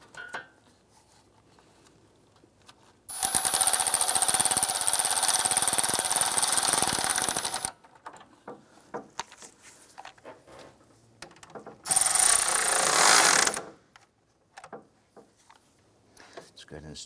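Bolts on the A/C condenser brackets of a 2006-2013 Chevrolet Impala being snugged down, with two loud bursts of sustained mechanical whirring, likely a power ratchet, separated by quiet stretches with small clicks and handling noises.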